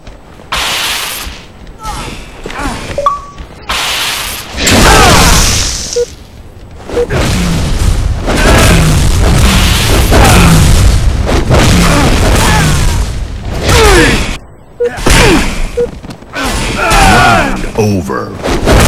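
Bomb explosions in a Halo Reach Grifball match: loud, booming blasts and thuds repeating through a busy stretch of game noise, with players talking over much of it.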